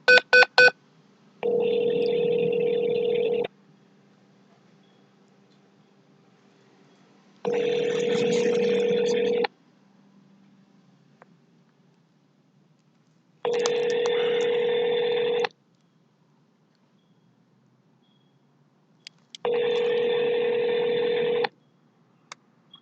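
Telephone ringback tone while a call is being transferred on an automated phone line: four long, loud ring bursts of about two seconds each, evenly spaced with silent gaps between them, no talking.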